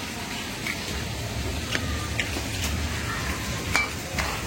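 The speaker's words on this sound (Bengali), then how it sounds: "এগুলি অনেকবার উল্টায় উল্টায় ভাজলাম" Taro leaf fritters fry in oil, a continuous, moderately loud crackling sizzle with occasional faint clinks of a utensil.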